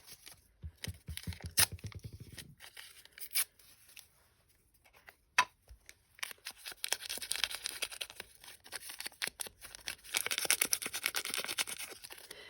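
Brown paper packaging tears in a string of crisp, papery rips and crinkles, close and fairly loud, with quieter handling rustles between bursts and a denser stretch of tearing toward the end.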